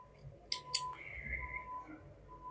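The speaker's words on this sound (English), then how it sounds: "Now cut all this extra yarn." Scissors snip through leftover crochet yarn in two quick, close cuts, followed by a faint sliding rasp and a soft steady tone in an otherwise quiet room.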